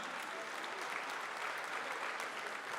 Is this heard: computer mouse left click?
no